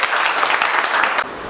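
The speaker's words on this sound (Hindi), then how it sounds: "जोरदार ताली बजाओ" Students in a class burst into loud, rapid applause, a short dense flurry of clapping that cuts off abruptly.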